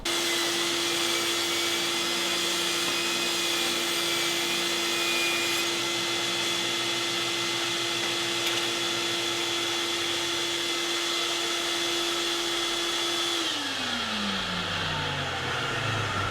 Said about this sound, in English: I've got a vacuum sucking dust out of the bottom of the saw.